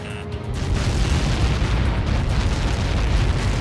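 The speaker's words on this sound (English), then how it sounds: "How many got caught in that explosion?" A massive explosion in the Ace Combat 7 video game, a sustained loud roaring rumble that swells and holds after a brief quieter start.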